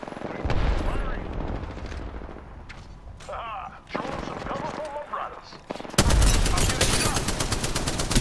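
Gunfire in the Apex Legends video game, dense automatic bursts and shots with a heavy barrage near the end, mixed with game voice lines and effects throughout.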